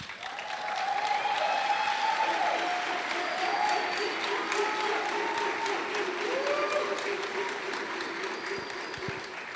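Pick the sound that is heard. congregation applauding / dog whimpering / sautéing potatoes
congregation applauding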